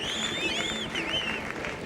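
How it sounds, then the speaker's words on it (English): Applause plays in the video game The Lions Song, quiet and continuous beneath swooping tonal game effects. "Clap, clap, clap."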